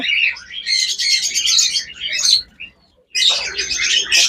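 Lovebirds chirping in a busy chorus of rapid, high, close tweets and squawks that keep coming in bursts, broken by a short pause before they start again.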